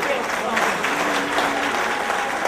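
A live audience at a French-language performance claps in a sustained, even round of applause, dense and fairly loud, with a faint voice briefly audible beneath it.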